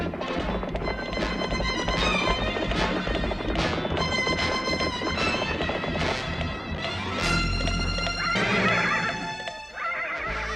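A horse whinnies loudly amid clattering hooves and crashing movement, in a Lone Ranger episode about the Great Land Rush, as riders dismount.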